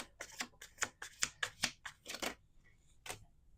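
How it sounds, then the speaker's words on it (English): Tarot cards are riffled and shuffled in quick, crisp bursts of flapping and snapping, a rapid rhythmic series close to the microphone, then a final pair of taps. "Last shuffle."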